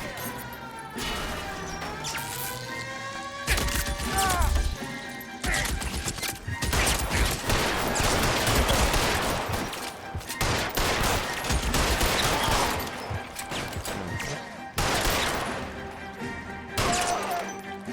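Repeated gunfire during a car chase in L.A. Noire, rapid volleys of shots with crashes and smashing impacts over a roaring engine, loud and sustained, punctuated by brief quieter gaps.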